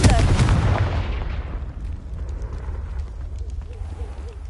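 A loud, booming Confringo fire spell explosion from Hogwarts Legacy hits at once, a dense roaring blast that slowly fades into a low rumbling tail.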